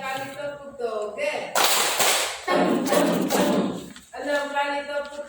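Group of teachers clapping in unison in rhythmic 'tepuk toge' clap chant, loud bursts of synchronized claps between a voice calling out the count, in a positive-culture school workshop setting.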